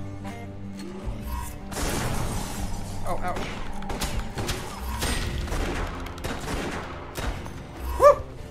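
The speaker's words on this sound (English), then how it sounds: "Shots." Repeated gunfire from the Western-themed video game West of Dead, rapid overlapping shots and crashes filling several seconds, with a brief spoken word near the end.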